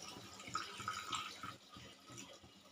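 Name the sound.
a little water being added to the pan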